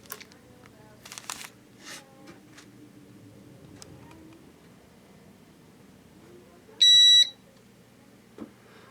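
A single loud high-pitched electronic beep from a Creality LD-002R resin 3D printer sounds briefly amid quiet background noise and a few soft clicks and rustles.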